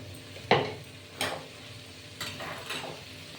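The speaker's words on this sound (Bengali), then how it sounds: "সুন্দর করে কষিয়ে নেব" Vegetables being stirred and sautéed in a pan for a vegetarian Bengali tarka, with a few distinct scraping strokes of a spoon against the pan over a low, steady background.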